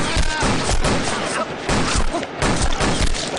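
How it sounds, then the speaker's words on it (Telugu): Gunfire bursts out in rapid volleys during a Telugu film scene, loud sharp cracks in clustered bursts, with shouted voices mixed in among the shots. "ఎవర్రా షూట్ చేస్తున్నది?"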